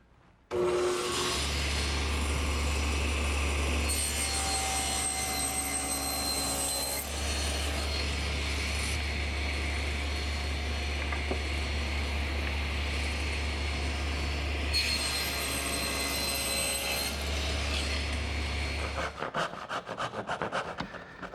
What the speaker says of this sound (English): I'm going to use my tenon attachment for the table saw